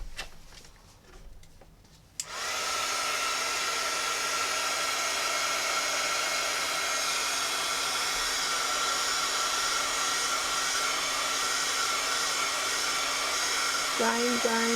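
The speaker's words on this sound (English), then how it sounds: "I'm going to use my embossing tool, my heat tool, to dry this swatch." An embossing heat tool blows hot air to dry a handmade watercolor swatch, switching on abruptly after a few soft clicks and then roaring in a steady, loud, even whoosh that continues to the end.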